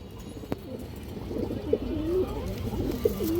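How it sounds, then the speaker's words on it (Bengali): A pigeon coos close by in soft, low, rolling phrases repeated several times over a faint background hum, with a couple of light taps. "কবুতরটা দেখেন খুবই সুন্দর একটা কবুতর"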